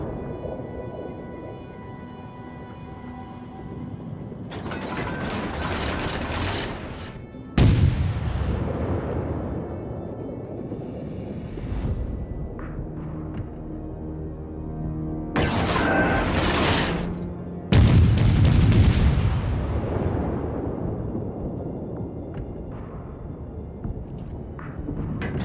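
Naval guns on an American Tier III cruiser, the St. Louis, fire in World of Warships with two heavy broadside booms about ten seconds apart. Each blast is loud and sudden, then rolls off into a long rumbling decay over low engine and sea ambience.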